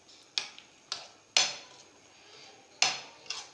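Lemon juice is mixed into a green chili spice filling, producing about six sharp metallic clinks of a utensil against a bowl at uneven intervals, fairly close and otherwise quiet.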